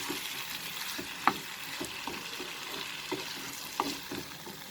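A spoon stirring a pan of sizzling potato and wild spinach (bathua) saag, soft scraping and clinks at a slow irregular pace over steady gentle frying, no voices.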